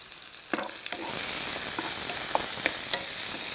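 Tomato frying in oil in a pan for a vegetable stir-fry, a few stirring clicks, then a sizzle that swells after a second and stays steady, with more light scrapes.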